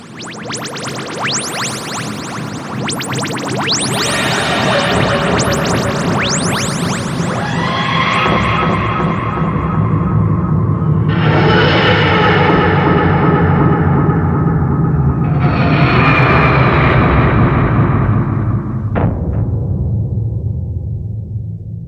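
The TARDIS from Doctor Who makes a forced crash landing with loud, repeated wheezing and groaning swells that rise and fall in overlapping waves, ending with a sharp click.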